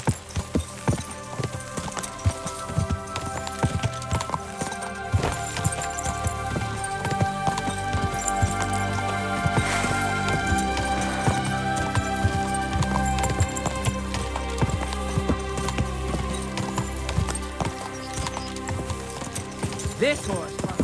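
Horse hooves clip-clopping in Kingdom Come: Deliverance II, a steady running rhythm under game music and ambient sound, moderately near, with occasional spoken voices.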